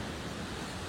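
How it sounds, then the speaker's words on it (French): Continuous wash of ocean waves on a beach, a soft, even roar with no voices. "Tiens, le bruit des vagues."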